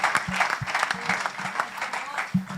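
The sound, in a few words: audience applause in church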